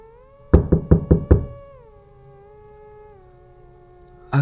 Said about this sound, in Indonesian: aku mendengar suara gaduh seperti ada seseorang mengetuk pintu